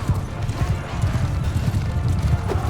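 Horse hooves drum in a rapid galloping rhythm during a cavalry battle in Mount & Blade II Bannerlord, a dense busy clatter close by with faint battle noise mixed in.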